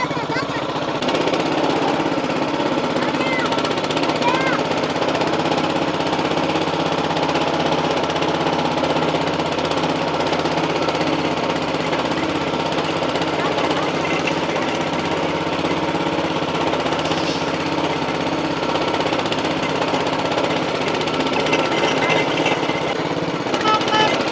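A petrol mini tractor engine runs loudly and steadily up close, a continuous rattling drone with people talking over it.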